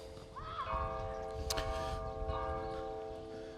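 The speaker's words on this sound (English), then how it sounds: "here's some of the bells of the churches in the background" Church bells ring in the background near Mount Zion in Jerusalem, faint sustained tones with a couple of soft strikes over low ambient noise.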